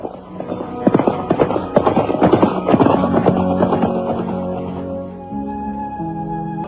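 Horses' hooves clip-clop as riders set off in a radio drama, a dense patter of loud, close hoofbeats that thins out and gives way to a steady tonal background near the end.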